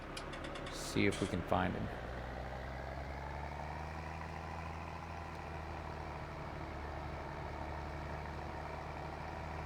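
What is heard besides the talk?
Fiat tractor engine running, from a video game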